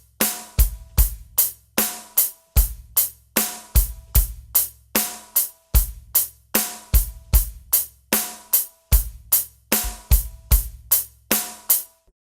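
A rock groove on a drum kit, with steady hi-hat eighths over syncopated bass drum hits and backbeat snare, played close, loud and alone.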